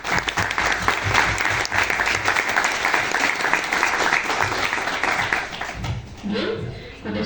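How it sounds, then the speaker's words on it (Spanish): An audience at an academic book presentation on sociolinguistics gives sustained applause, loud and dense for several seconds, then thins out as a voice begins speaking near the end. "Aplausos, por favor."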